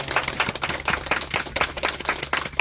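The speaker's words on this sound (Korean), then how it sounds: "박수." An audience clapping together in a brisk, uneven burst of applause, close and moderately loud throughout, with no talking.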